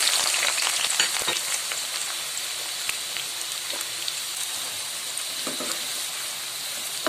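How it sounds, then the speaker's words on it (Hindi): Onions frying in hot oil for chana dal gosht, a steady, close crackling sizzle like light rain with occasional sharper pops and faint stirring, and no one talking. "ये दूसरी तरफ ऑयल गर्म हो चुका है, इसमें हम प्याज डाल के फ्राई करने लगे हैं"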